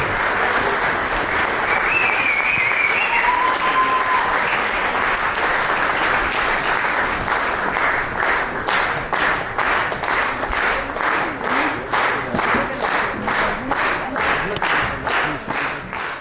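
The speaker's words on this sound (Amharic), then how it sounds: "ሞቅ ባለ ጭብጨባ እንድትቀበሉልኝ በትህትና እጠይቃለሁ" Sustained audience applause for an honoured guest at an award ceremony in America, loud and dense from the start, then breaking into a steady rhythmic unison clap that continues to the end.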